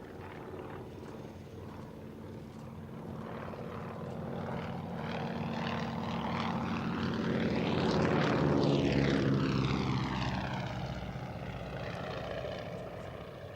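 A restored Avro Anson propeller aircraft in 206 Squadron coastal command markings flies past at the Cosford Airshow, its engine drone swelling as it nears and a clear Doppler sweep as it passes, then fading.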